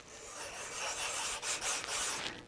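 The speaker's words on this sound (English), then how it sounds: "Now I have one of the strips and I'm taking sandpaper" Sandpaper rubbing a thin wood strip for a model road layout, a close, soft rasping scrape in short back-and-forth strokes with brief pauses, alone and fairly faint.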